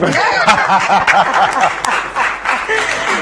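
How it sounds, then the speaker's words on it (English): An audience claps and cheers in a lively burst at a live talk show event, with scattered laughter and voices mixed in, loud and close, gradually thinning toward the end. "Clap for yourself."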